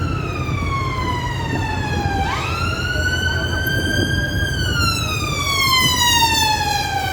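An ambulance siren wails continuously at close range, its pitch sliding down, jumping back up and sweeping steadily across the clip over a constant traffic rumble, with no talking.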